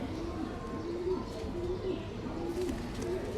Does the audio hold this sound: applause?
no